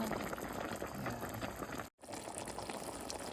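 A pot of turnip greens with beef bones boils on a stovetop, a steady close bubbling and churning that continues throughout with a brief dropout midway.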